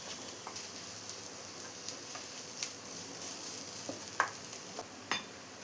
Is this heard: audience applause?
no